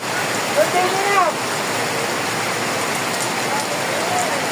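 Floodwater rushes through a street in San Juan as a steady, dense wash of flowing water, with a faint whistle-like tone early on; no talking.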